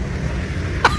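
One short, sharp cough from someone clearing phlegm that had been held back, close and loud against a low background murmur.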